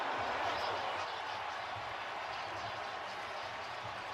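Stadium crowd at a snowy Colts–Chiefs divisional-round playoff football game cheering a touchdown, a steady, dense roar that holds level throughout.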